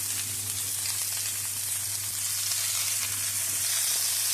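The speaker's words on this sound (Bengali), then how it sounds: "পরিমাণ মতো নুন দিয়ে আলু ফুলকপিটাকে ভালো মতন ভেজে নেব।" Potato and cauliflower pieces fry in oil, salted, for a Bengali cauliflower dhokar dalna, giving a steady, dense sizzle that holds close and even throughout, with no talking.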